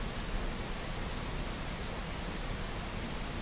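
A white noise generator runs as a steady, even hiss of broadband noise, constant in level from start to finish with no talk.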